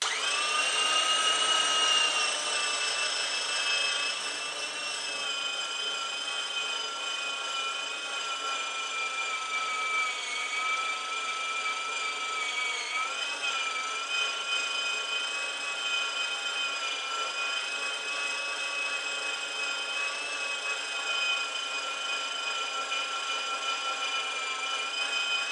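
A food processor's slicing cone attachment grating cheese, a steady high-pitched motor whine with grinding texture running continuously and loud for the whole stretch, no talk.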